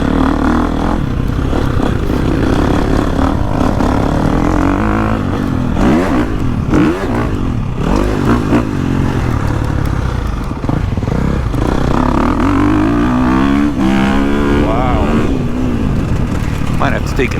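A 2023 Gas Gas MC350 motocross dirt bike rides a rutted track, its engine revving and surging continuously with loud, near throttle swells and shifting pitch, while a rider talks over it.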